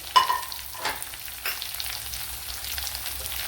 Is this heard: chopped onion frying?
yes